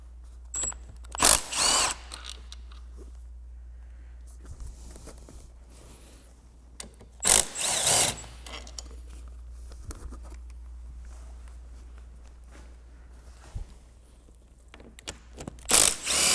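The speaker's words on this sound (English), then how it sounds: "We're gonna take the bolts out." A ratchet clicks in short, loud bursts as it removes the seat bolts from a Lexus, with quiet pauses and a steady low hum between the bursts.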